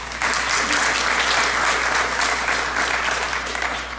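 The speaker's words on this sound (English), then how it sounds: "please give a warm welcome applause for our speaker today, Jake Cambic." An audience breaks into sustained, loud applause welcoming a speaker at a talk, dense clapping continuing steadily throughout with no voices over it.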